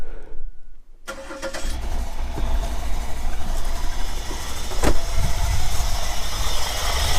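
A 1997 Chevrolet Camaro engine cranks briefly and fires up about a second in, then settles into a steady, loud idle with a rough mechanical clatter, close by in a garage with the car raised.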